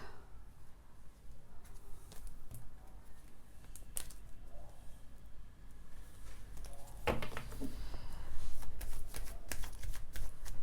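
Tarot cards being shuffled by hand, a steady papery riffling and slapping that runs throughout, close and fairly quiet, with a few sharper card snaps near the end and no talking.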